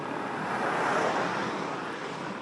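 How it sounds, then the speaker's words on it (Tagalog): A broad rush of strong wind roars steadily and loud, swelling slightly in the middle before easing back. "Lakas ng hangin."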